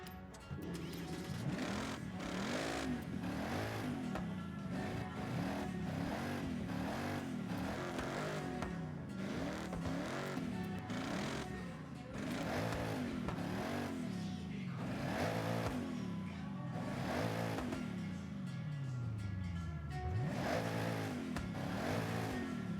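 In the Forza video game, a stock car engine revs over and over in rising and falling sweeps. The buzzy drone is steady and close, and no one talks over it.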